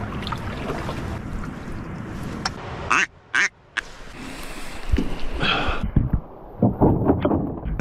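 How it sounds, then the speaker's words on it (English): Mallard ducks quacking outdoors near the ocean in remote Australia: several loud, close quacks scattered over wind and water noise, with short gaps of quiet between them. "Mallard ducks actually have, there's the basic quack right into the call"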